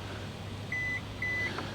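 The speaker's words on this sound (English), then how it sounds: "hold the button down and listen for the beeps" Two steady electronic beeps from a 2026 Hyundai Kona's tailgate while setting its opening height, the first about a quarter second and the second slightly longer, fairly loud over a low background hum.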